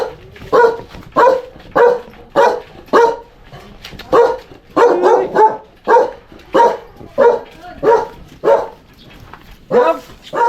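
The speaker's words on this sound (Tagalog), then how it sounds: "Ay, ano aso dyan eh." A dog barks repeatedly and loudly close by, a rhythmic series of sharp barks about one per second with short pauses, sometimes with a whimpering edge.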